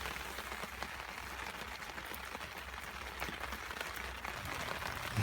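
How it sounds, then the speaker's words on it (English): Heavy rain falling on a camp tarp by a debris teepee at night, a dense continuous patter with occasional sharper drops, steady and moderately quiet with no voices. "And the rain's on, as you can hear."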